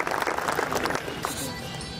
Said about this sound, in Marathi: एकदा जोरदार टाळ्या वाजवून त्या प्रवेशाचं आपण सगळे मिळून स्वागत करू